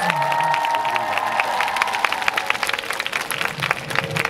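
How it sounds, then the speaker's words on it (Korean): Outdoor crowd clapping and light cheering at a family sports event with a singer on stage, moderate and uneven, with some tonal background sound underneath. "큰 박수"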